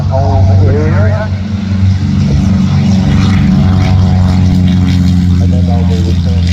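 A propeller aircraft taxis for takeoff at the Tocumwal air show, its steady engine drone loud and continuous, with a voice talking over it throughout.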